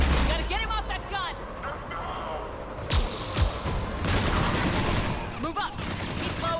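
An enemy fires a mountain gun in Mass Effect 3: loud rolling bursts of heavy gunfire with deep booms, close and sustained, mixed with voices and battle noise.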